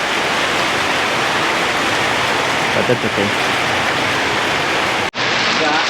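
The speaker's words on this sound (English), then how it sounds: "it's raining more than I thought" Heavy rain pours steadily in an Indonesian city, a dense, loud hiss that fills the whole scene before cutting off abruptly near the end, with a voice speaking briefly over it.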